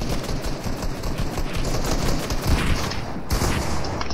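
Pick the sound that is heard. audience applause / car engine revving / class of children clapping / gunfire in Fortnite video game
gunfire in Fortnite video game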